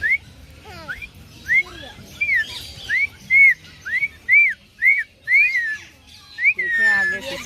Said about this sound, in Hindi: देखें आगे से सीटी मारे।